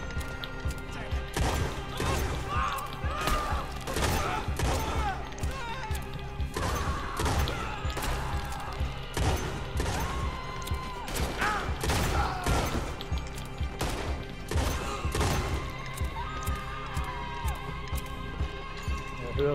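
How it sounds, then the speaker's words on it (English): Repeated gunshots ring out in Red Dead Redemption 2, sharp bursts and volleys arriving in irregular clusters over a steady game ambience, with some faint talk beneath. "Fire your gun, dude."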